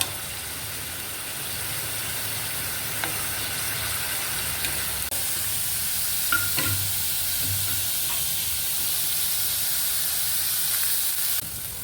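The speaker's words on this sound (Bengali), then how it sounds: "তেলটা গরম হয়ে গেছে, এবারে আমি ওর মধ্যে দিয়ে দিয়েছি পেঁয়াজ রসুন বাটাটা" Onion and garlic paste sizzles steadily in hot oil, a close, continuous frying hiss broken by a few soft clinks and scrapes of stirring, with no voices.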